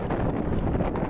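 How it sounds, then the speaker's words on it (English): Strong wind buffets the microphone outdoors at a monastery. It makes a dense, continuous roar with no talking. "it's pretty windy"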